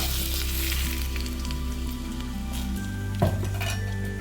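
Shallots, green chilies and curry leaves sautéing in oil for a Tamil greens kadaiyal, a continuous sizzle with stirring, a few clinks of a metal utensil against the pan, no talking.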